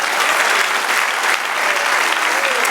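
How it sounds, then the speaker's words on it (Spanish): A church congregation applauding the Lord during a Spanish-language sermon, a dense, steady wash of clapping from many hands filling the room without a break. "Denle otro aplauso al Señor."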